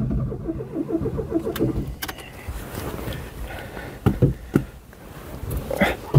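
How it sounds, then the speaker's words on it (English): A Ford Escort Mk3 barn find parked since 1993 cranks and catches, its engine running rough and uneven with throttle blips, close by, while people talk. "Okay, if I give a bit of a throttle, it starts up."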